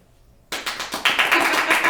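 Canned studio audience applause starts abruptly after a short silence, a dense wash of many hands clapping that swells louder midway and holds steady to the end.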